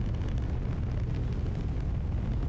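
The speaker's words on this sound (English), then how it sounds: "It's exploding into pieces!" A rocket breaks apart in the Kerbal Space Program 2 video game, a dense, loud, sustained low rumble and roar of explosion with no talking.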